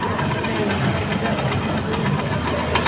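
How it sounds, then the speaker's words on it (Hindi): Motorcycle engine running steadily after a timing chain replacement, a close, even, continuous mechanical rumble with no obvious rattle or gaps. "ये बाइक स्टार्ट की है, बाइक का साउंड सुन लें।"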